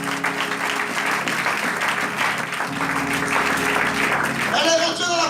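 A church congregation applauding the Lord, broad continuous clapping that fills the space, with a voice speaking over it and rising at the end.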